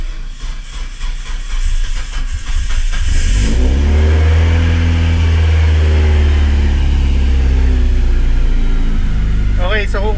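A Mitsubishi Evo 5 engine warming up, loud and close, rising into a sustained high rev after a few seconds and holding steady; a voice speaks briefly near the end.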